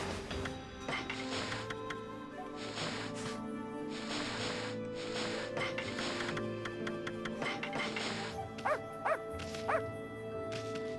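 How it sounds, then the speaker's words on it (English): Several dogs in the video game Ōkami bark and yip in a rapid, overlapping chorus over steady game music, with a few sharper yelps near the end. "listen to them all bark."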